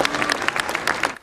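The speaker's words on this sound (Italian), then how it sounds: "la folla accoglie i reali con un applauso scrosciante" Crowd in Edinburgh applauding the royals at Queen Elizabeth's lying in state, a brisk burst of many hands clapping together, loud and close, fading out at the end.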